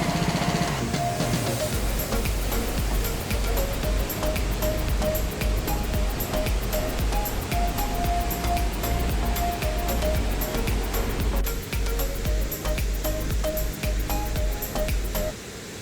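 Waterfall at Curug Pelangi, a rainbow waterfall in a ferny, mossy gorge, roaring steadily and loud close by, a dense unbroken rush of falling water with faint tonal whistles riding over it.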